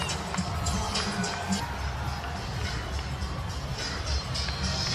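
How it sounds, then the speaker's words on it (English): A stadium crowd roars and cheers as Lionel Messi of Inter Miami takes the pitch, a dense sustained wash of voices with a commentator talking over it. "the crowd just erupted for this man right here, Lionel."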